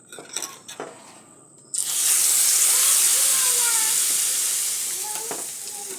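Potato and flour snacks dropped into hot oil start a sudden loud, bright sizzle that holds steady and slowly eases, after a few light clinks of utensils at the start.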